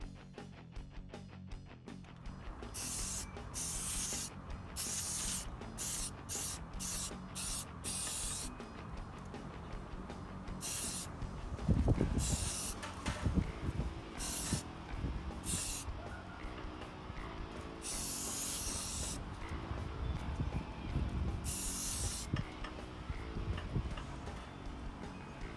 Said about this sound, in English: detailing with black spray paint